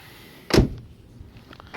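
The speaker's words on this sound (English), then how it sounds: "Shut the door." A Ford Mondeo MK3 car door shuts with a single solid, close thud, followed by a few faint clicks and rattles as it settles.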